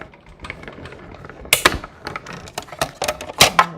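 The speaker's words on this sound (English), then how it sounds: "And then we're going to go ahead and die cut this one." A die cutting machine cutting paper for a craft project, sharp clacking mechanical clicks and knocks arriving irregularly, close and moderately loud with no talking.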